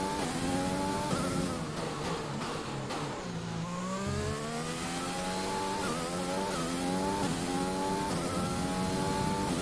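Formula 1 car from the F1 2020 video game on a qualifying lap at the Brazilian Grand Prix, its engine screaming steadily through rising and falling gear changes, loud and continuous with no talk.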